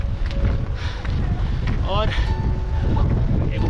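Strong wind blows across Dalai Hills in Mussoorie, buffeting the microphone in a loud, continuous low rumble, while people talk nearby and brief whistling and chirping sounds break through.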